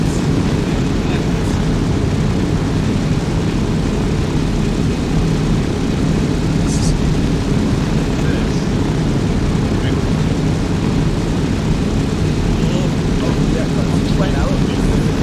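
Engine noise inside an airplane cabin during flight, a loud, constant low roar and drone that continues unbroken throughout, with voices talking faintly beneath it.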